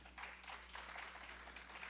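A church congregation applauds during a worship service, a steady wash of many hands clapping, soft and somewhat distant with a low hum underneath and no clear talk over it.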